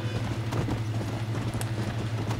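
Horse hooves clip-clop steadily along a road in the Red Dead Redemption video game, a continuous rhythmic trot with a constant low hum underneath.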